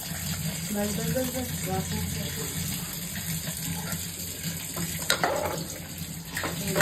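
Water runs and splashes into a pan of prawn curry, a steady pouring rush with some faint sizzling and a few clinks near the end.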